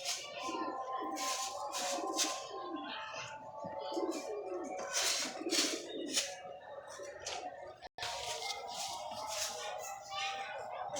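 Pigeons coo repeatedly and close by, their throaty calls layered with chirps, while someone talks over them throughout.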